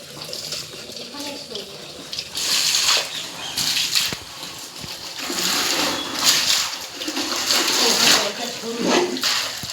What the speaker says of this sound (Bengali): চলো আমি এটা কেচে ধুয়ে নিই